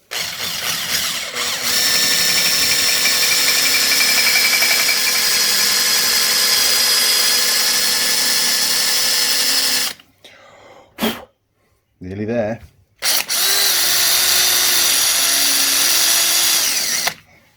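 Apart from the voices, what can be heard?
power drill drilling out a rounded screw head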